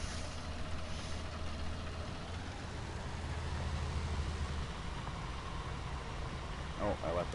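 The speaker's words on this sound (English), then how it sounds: "Oh, I left that tractor going." A tractor engine left running outdoors keeps up a steady, rumbling idle throughout, with people talking over the continuous drone.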